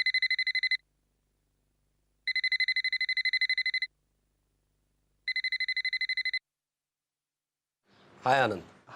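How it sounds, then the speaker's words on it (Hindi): A telephone rings in three loud, evenly spaced bursts of bright electronic trilling in an indoor TV drama scene, followed by a short moment of a voice speaking. "मेरे सामने ही घंटियां बज रही हैं"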